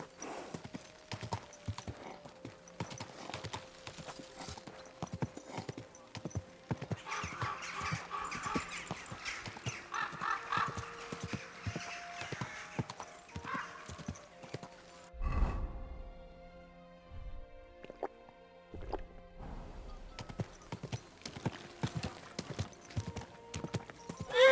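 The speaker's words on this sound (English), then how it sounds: "Your horse nearly trampled me!" Steady clip-clop of horse hooves from Kingdom Come Deliverance 2, walking at an even pace close by, with a brief whinny and a heavy thud partway through. Game music and ambience sit beneath it.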